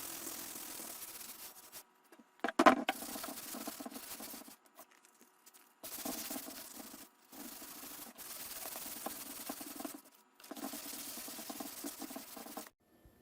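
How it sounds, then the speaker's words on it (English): A tool handle being sanded by hand, with long rasping strokes in several bursts separated by short pauses and a brief knock near the start, close and fairly loud, with no talking. "Let me get this other one sanded, and then we'll go from there."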